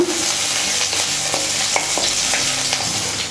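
Green chilies sizzle steadily in hot oil in a pan with occasional stirring scrapes and crackles, close and continuous with no talking.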